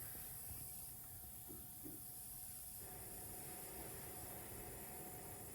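Gas and liquid blow back out of the top of a filling valve on a Maxitrak 1.5-inch Allchin live-steam engine as a steady, loud hiss that continues without a break.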